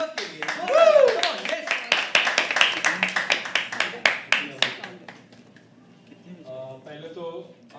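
An audience at a poetry open mic at The Habitat breaks into brisk, closely spaced clapping, with a person talking over it, before the applause thins out and fades after a few seconds.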